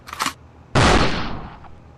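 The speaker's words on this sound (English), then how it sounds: "Here's a gunshot." A single loud gunshot cracks out after a brief faint rustle, its sharp blast trailing off into a long rolling echo that fades over about a second.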